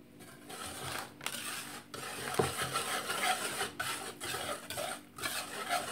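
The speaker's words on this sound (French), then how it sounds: "Et je vais mélanger tout ça ensemble." Chickpea graibat dough with a pinch of salt being mixed by hand, giving continuous close rubbing and scraping strokes in an irregular rhythm with brief pauses, and no talking.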